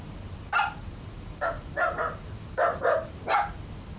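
Dachshunds barking indoors, about six short sharp barks, some in quick pairs, moderately close over a steady background hum.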